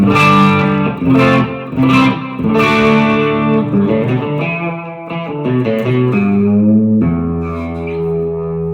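A clean electric guitar, a Warmoth-style build, plays chords and melodic runs through a Marshall Origin 20 head and a Marshall 1x12 cabinet, loud and close, with a warm tone and ringing sustain, no voices.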